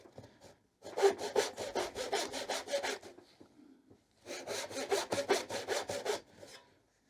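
Hand saw cutting a dado into a wooden board, two bursts of quick rhythmic back-and-forth rasping strokes, close and clear, separated by a short pause.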